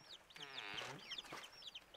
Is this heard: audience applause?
no